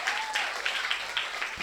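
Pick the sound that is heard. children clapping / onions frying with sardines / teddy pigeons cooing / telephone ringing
children clapping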